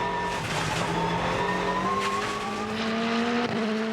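A race car threads through the first corners of the 2011 Festival of Speed timed shootout, its engine note rising and falling through gear changes with tires squealing, close and loud with no talking.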